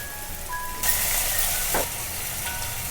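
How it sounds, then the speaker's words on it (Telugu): Tomatoes hit a hot pan while cooking a Telugu moong dal and spring onion curry, and a sudden loud sizzle breaks out and carries on steadily, with a brief stirring scrape in the middle. "ఇప్పుడు టమాటోస్ వేసుకోవాలి."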